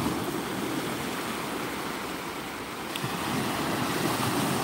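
Ocean surf on Pensacola Beach, a steady broad wash of waves breaking and rolling in, with wind noise mixed through, moderately loud and continuous with no talking.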